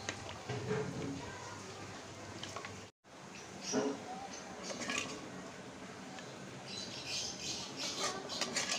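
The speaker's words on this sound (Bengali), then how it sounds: "চুলা থেকে নামিয়ে নিয়েছি, এখন এই হাঁড়িটাতে ট্রান্সফার করব।" Cooked beef from a clay stove being moved into a cooking pot, with metal scraping and clinking of spoon against pot in short bursts, fairly quiet, with a brief drop to silence partway and birds faintly in the background.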